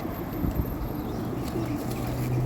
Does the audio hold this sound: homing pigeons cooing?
yes